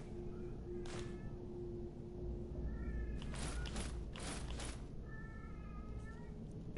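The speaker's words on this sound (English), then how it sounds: "If you can hear any weird howling, that's my cat Simba." A pet cat named Simba meows and howls in drawn-out, wavering cries, mostly in two bursts in the second half, over a steady low hum of game sound and background noise.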